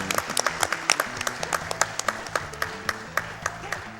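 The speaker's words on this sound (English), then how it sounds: "Can we get a round of applause?" An audience at SGDQ 2018 gives a round of applause for a Castlevania: Circle of the Moon speedrun, with many hands clapping at a quick, uneven pace and a faint voice underneath.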